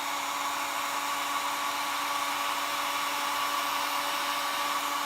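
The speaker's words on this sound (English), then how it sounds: "Look, the heat gun is really giving it." A heat gun blows on a Dollar Tree craft pumpkin, producing a steady whining hiss with a constant tonal hum, close and unvarying for the whole stretch.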